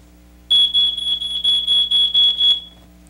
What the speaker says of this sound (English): loud beeping noise.